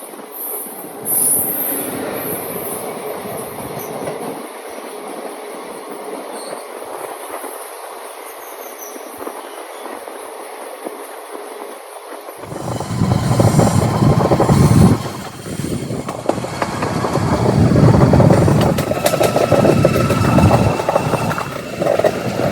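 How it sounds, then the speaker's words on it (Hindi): A passenger special train (Darbhanga–Daurai service) pulling out of Narkatiaganj Junction in West Champaran, Bihar: a steady rolling rumble that abruptly turns into loud, close clattering wheel noise with squealing for the rest of the run. "अपनी ट्रेन 2 घंटे की डिले से निकल चुकी बिहार के वेस्ट चंपारण के नरकटियागंज जंक्शन से"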